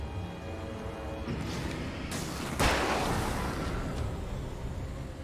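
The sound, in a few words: gunshots in the video game Alan Wake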